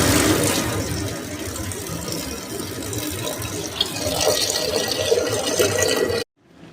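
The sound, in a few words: water poured into a pressure cooker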